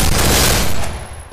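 A video game gunshot landing a headshot: a brief, loud, close blast of fire that quickly fades away.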